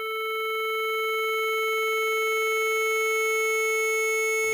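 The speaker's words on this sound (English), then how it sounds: "that is literally just going to sweep this wavetable" Omnisphere synth patch with an LFO sweeping a wavetable: a sustained, steady electronic tone with stacked harmonics that slowly grows fuller and brighter, heard alone and ending abruptly.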